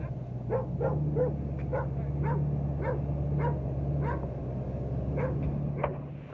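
Dogs at a campsite barking repeatedly, a steady run of about a dozen moderately distant yapping barks at a regular pace over a constant low hum.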